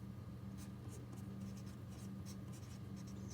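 A pen scratches across paper while solving a maths problem, a faint series of short strokes over a low steady hum.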